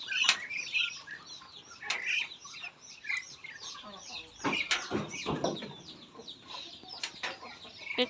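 Chickens and ducks on a rural farm, with repeated clucking calls and occasional bursts of wing flapping close by, scattered irregularly over several seconds, while people talk quietly in the background.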